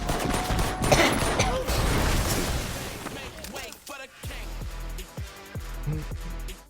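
A dense fusillade of gunfire from thugs shooting at a stone-skinned hero in an animated Invincible fight scene, heavy rapid bursts followed by a scatter of separate shots, with people talking over it.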